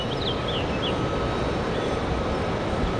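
Airliner on final approach near the runway at Raleigh-Durham International Airport, a steady engine roar with a faint high whine, heard from nearby without talk and with a few brief bird chirps.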